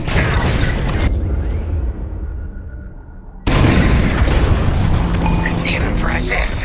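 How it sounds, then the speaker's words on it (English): Bombs from starfighters explode in a Star Wars Squadrons space battle, a loud booming burst that rolls off, then a second heavy blast cutting in sharply, with a voice talking over the din. "On my mark, it's bombs away."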